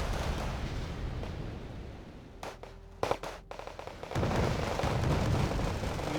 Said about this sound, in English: There we go, got a bombing run it seems.